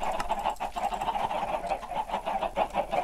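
Video game chickens spawned in huge numbers cluck and squawk continuously in a dense, loud overlapping chorus with no pauses.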